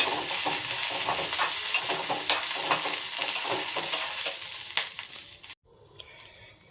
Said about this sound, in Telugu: ఇదిగోండి పల్లీని అయితే ఇలా బాగా ఫ్రై చేసుకోవాలండి